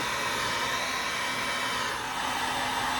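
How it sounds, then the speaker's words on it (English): A cheap Harbor Freight heat gun blows hot air onto marine-style adhesive heat shrink over a battery cable, a steady, close, continuous whoosh like a hair dryer with no talking. "with heat shrink, just using my cheap Harbor Freight heat gun, it's perfect for this."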